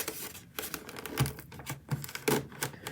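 Fingernails cut open the back of a cardboard box in quiet, quick bursts of crisp scratching and tearing clicks, close up and with no talking.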